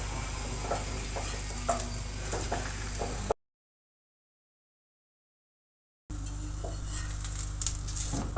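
Paratha frying in ghee on a pan, a soft continuous sizzle with light metallic clinks and scrapes, cut by a few seconds of silence before resuming.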